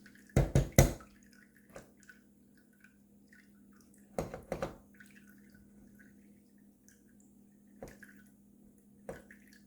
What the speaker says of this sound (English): Pardon the leaky faucet.